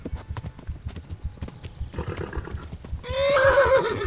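In the video game Kingdom Come Deliverance, a horse gallops with rapid hoofbeats up close, and the run ends in a loud whinny.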